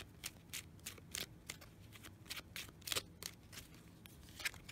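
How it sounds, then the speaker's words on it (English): Crystal-themed chakra oracle cards being shuffled by hand, a quiet series of brisk riffling bursts in an uneven rhythm, close and soft, with no talking. "So let's shuffle and draw one and see what it says."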